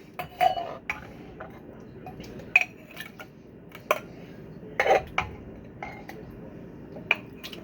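Seafood chowder with shrimp, bacon and cod ladled from a cast iron pot into a bowl, with scattered soft metallic scrapes and clinks of the ladle against iron and crockery, moderately close and fairly quiet.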